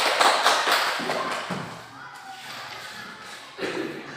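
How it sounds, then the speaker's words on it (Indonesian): Students in a classroom clap their hands together in a busy, dense patter that starts loud and then thins out, with a fresh burst near the end. "Tepuk tangan dulu."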